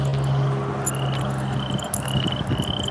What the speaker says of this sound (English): Wow, listen to these frogs here.